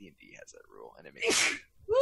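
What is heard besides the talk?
sneeze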